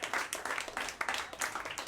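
A small audience claps after a presentation, a short burst of scattered, fairly quiet handclaps lasting under two seconds.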